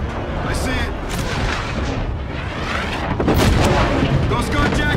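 A dense, continuous firefight with covering fire in Call of Duty: Infinite Warfare, with rapid gunfire and booming blasts rolling together at high volume and a louder surge near the end.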